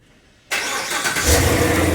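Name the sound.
Chevrolet Corvette C7 engine starting with the start button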